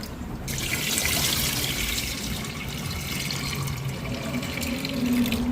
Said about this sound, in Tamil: இந்த மாதிரி நல்லா கிளஞ்சி கழுவி போட்டு தான் ஊற வைக்கணும்